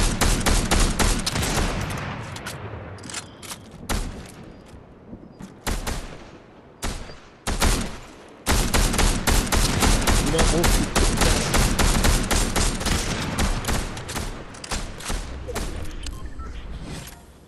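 Squad gunfire in the video game Fortnite, dense bursts of rapid automatic shots and repeated loud volleys that pause briefly and then resume in sustained firing, close and dominant.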